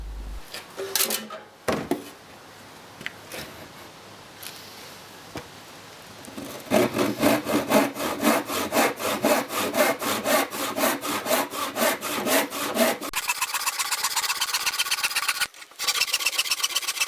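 Rhythmic rip sawing of pallet wood with a handsaw on a saw stool, steady back-and-forth rasping strokes close up, starting after a few scattered knocks and continuing at an even pace.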